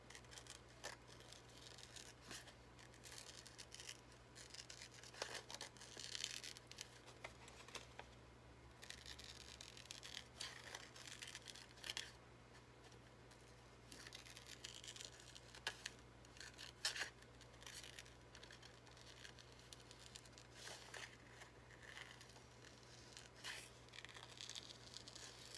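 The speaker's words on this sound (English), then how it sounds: "And the sound of cutting paper is the best." Scissors snip through paper during hands-on analog collage making, a steady run of soft crisp cuts and rustles at close range, fairly quiet over a constant low background hum.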